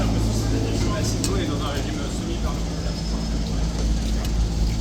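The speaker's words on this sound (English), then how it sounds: "despite the super noisy truck behind us. No idea why he's sitting there with his engine running" A parked truck idles behind a person talking outdoors at a tourist site, its heavy engine putting out a steady, close, low rumble that runs continuously under the speech.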